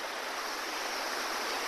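Water from a pipe spilling into a small cascade at a campsite near a stream, a steady close, even rushing splash with no pauses and no voices.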